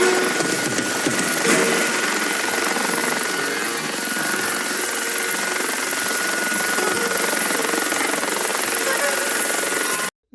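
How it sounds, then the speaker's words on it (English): A helicopter's steady, dense rotor and engine roar fills the scene from a movie, loud and continuous for about ten seconds with a faint voice underneath, then cuts off abruptly. "where we hear the helicopter noises"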